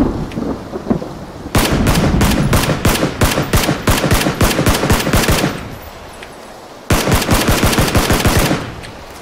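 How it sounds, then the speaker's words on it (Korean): Rapid automatic gunfire rattles in two long, loud bursts in the PUBG battle royale game, aimed at a vehicle's wheels, with a short lull between them. "이럴 때는 원래 바퀴를 쏴주는 게 좋아요"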